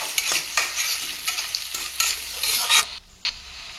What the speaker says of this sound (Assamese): এইখিনি লৰাই লৰাই মচমচীয়াকৈ মই ভাজি ল'ম।